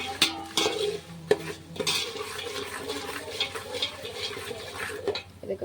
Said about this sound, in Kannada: ಅಳ್ಳು ಹಾಕಿ ತಿರುಗಿಸ್ತೀನಿ